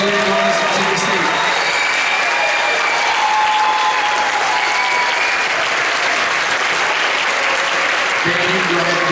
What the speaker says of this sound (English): Can we get one more round of applause for our awesome director, Dr. Angelica Gomez from Virginia State?